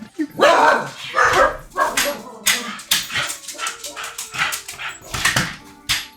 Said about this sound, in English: I apologize for how worked up the dogs appear to be tonight.